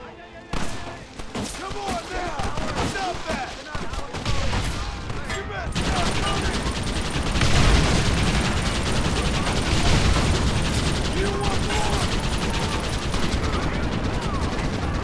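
Gatling gun fire in the Red Dead Redemption video game, starting as scattered shots and becoming dense, sustained rapid fire from about the midpoint on. Loud and continuous, with a voice talking intermittently over the battle.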